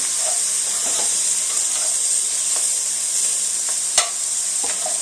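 Lamb stew ingredients, chunks of vegetables, sauté in a pan with a steady close hiss and sizzle, faint stirring scrapes and one sharp utensil tap near the end.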